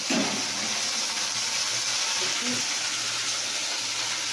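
Onions that have already been fried sizzle steadily in a pan as spices are added, a continuous broadband hiss with a low hum underneath and no voice over it.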